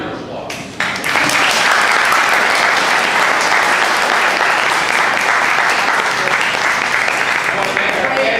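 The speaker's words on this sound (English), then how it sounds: "Now your applause." Audience applause at a political candidate forum for a state representative seat, starting after a brief quiet moment and swelling into sustained, steady clapping from a full room that carries on to the end.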